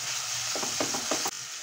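Chopped tomatoes tipped into a pan of onions frying with ginger-garlic paste, giving a steady sizzle with a few scraping stirs in the middle before a brief cut in the sound.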